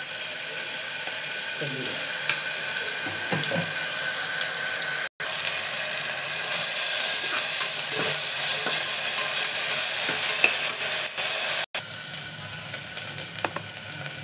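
Chopped onions with ginger-garlic paste sizzle steadily in a hot pan for a ridged gourd dal curry, a loud continuous hiss with small stirring clicks and a brief spoken word over it.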